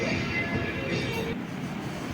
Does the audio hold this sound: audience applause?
no